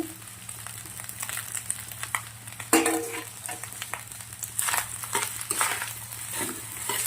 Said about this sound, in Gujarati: હવે આપણે લીલા દાણા નાખી દેવાના છે